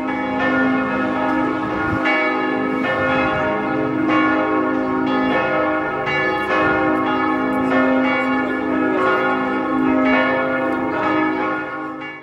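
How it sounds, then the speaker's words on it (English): Church bells in Switzerland peal for Catholic Easter, loud and resonant, with overlapping strikes ringing continuously and no one speaking. "the church that had been making beautiful but super loud bell sounds for half an hour on the occasion of the approaching Catholic Easter"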